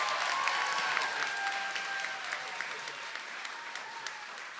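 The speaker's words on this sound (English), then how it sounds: "Let's give a big round of applause for our governor, Governor Gavin Newsom." An audience applauds for California's governor at a College Corps launch and swearing-in celebration, with continuous crowd clapping, some sharper individual claps standing out, and a gradual slight fade.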